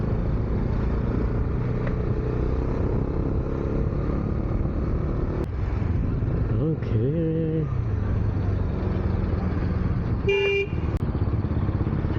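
Bajaj Dominar 400 motorcycle with its dB killer removed, the exhaust note a steady loud drone that rises and falls with throttle, with road noise, a brief horn toot near the end and a short spoken word.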